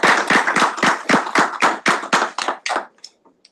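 Audience at a Senate meeting claps together in a dense round of applause lasting nearly three seconds, then it fades to a few scattered final claps, with no talking over it.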